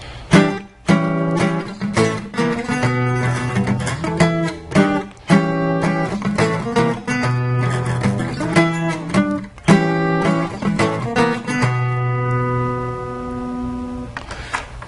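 At full tempo, an electric guitar plays a song's solo in quick, steady note runs, close and loud, before a final held note rings out alone.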